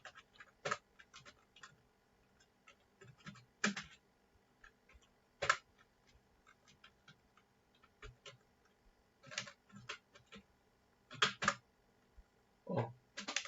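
Keys tapped on a computer keyboard while HTML code is typed, coming in short irregular bursts of clicks separated by pauses, close and fairly quiet.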